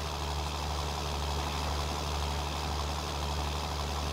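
A John Deere 6J tractor engine in Farming Simulator 19 running steadily during night planting, a constant low droning hum with no variation and no talk over it.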